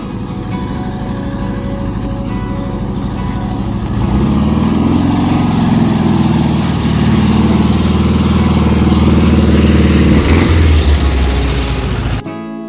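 A Volkswagen Beetle's air-cooled engine drones loudly and steadily while descending a mountain road in the Andes. The pitch shifts and the engine note deepens midway, and it cuts off abruptly at the end.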